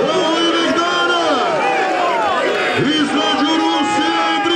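Loud, dense audience roar and shouting at a Bosnian championship fight event, Brizan versus Rusija at Velagići Ključ 2023, sustained cheers and whoops filling the hall without a break.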